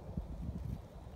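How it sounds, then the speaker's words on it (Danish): Wind gusts outdoors beside a campfire being started, heard as low, uneven rumbling and buffeting on the microphone, fairly quiet and continuous, with no talk. "Det blæser lidt herude, så det er lidt drilsk."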